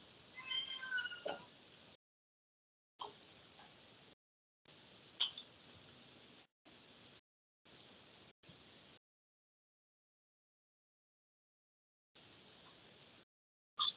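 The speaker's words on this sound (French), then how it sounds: "parce qu'il y a Jobim qui miaule et il y a Caïtan qui dort." A house cat meows several times, close but faint, in short bursts broken by silent gaps, with no one talking.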